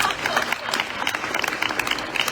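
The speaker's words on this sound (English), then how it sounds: "just a round of applause for me and everyone else here" An audience claps at the close of a WOT day panel discussion, a dense patter of many hands that stays even and lively throughout with no one speaking.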